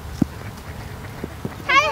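A few short, scattered honks from geese outdoors, faint and irregular, with a louder, more nasal call near the end.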